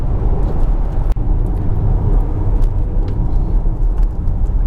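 A 2019 Audi A6 Avant S line with a 2-litre diesel engine driving on winding roads, heard as a steady, loud rumble of engine and road noise without pause and with no talking.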